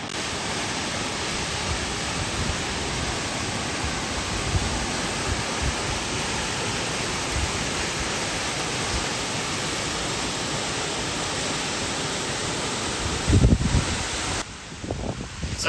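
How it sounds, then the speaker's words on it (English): Lower Calf Creek Falls, a desert waterfall in Utah, roars as a steady broadband wash of falling water heard close and continuous throughout, with some wind buffeting near the end. "we've just made it to Lower Calf Creek Falls."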